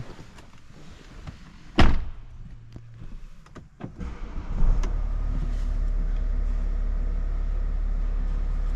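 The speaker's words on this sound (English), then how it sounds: "And we'll hop in, get the car started for you." A BMW 730d xDrive M Sport diesel is started from inside the cabin: a door thud and a few interior clicks come first, then the engine catches and settles into a steady low idle rumble that continues to the end.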